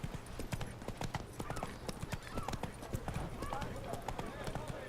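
Horse hooves clip-clop in a quick steady rhythm during a ride home in The Witcher 3, close and clear with a brief whinny, while a person talks over the game sound.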